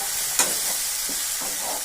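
Dudhi koftas with tomatoes being stirred in a kadai, a steady close sizzle broken by several soft scraping stir strokes, with no talking.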